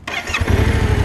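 A Yamaha Ténéré 700 adventure motorcycle from 2019 cranks briefly and catches, settling into a steady, throbbing idle close by, with no talk over it.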